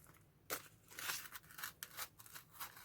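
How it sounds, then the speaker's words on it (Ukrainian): A paper tea bag packet is torn open close up in quick, crisp ripping bursts with rustling and crinkling between them, no voices. "Я порвала пакетик."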